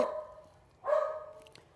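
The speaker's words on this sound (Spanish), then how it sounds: "El perro hace molestar harto." Dog barking in two short bursts, one loud at the start and another after a pause, fairly close and with no talk over it.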